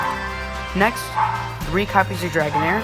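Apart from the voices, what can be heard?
dog barking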